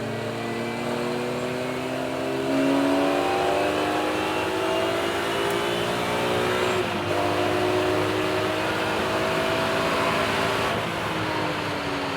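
A BMW race car accelerates hard around Donington Park, its engine note climbing steadily through the gears in rising harmonic sweeps, loud and close from the cockpit with one brief dip before pulling again.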